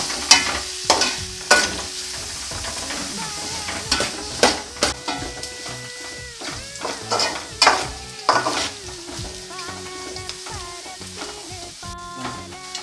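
Onions sauté in a pan for a home-style egg roast, with repeated stirring scrapes and clanks against the pan over a soft sizzle, loud and close, coming in irregular bursts.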